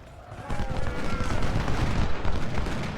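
Dense battlefield gunfire and artillery from the Civil War strategy game Ultimate General: Civil War at the Battle of Gaines Mill, a steady, loud barrage of rumbling booms and crackling volleys throughout, with no voice over it.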